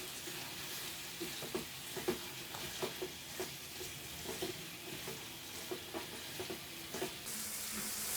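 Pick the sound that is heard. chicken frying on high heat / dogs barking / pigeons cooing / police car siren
chicken frying on high heat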